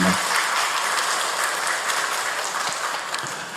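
A church congregation at a 33rd anniversary Sunday service applauds, a dense, steady wash of many hands clapping at once that tapers slightly near the end.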